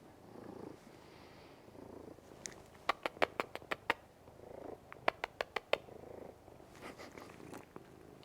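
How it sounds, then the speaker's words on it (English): Cat named Chai purring, a soft, close, rhythmic rumble in slow cycles, broken by a string of sharp tapping clicks in two bursts. "Do you hear him purring?"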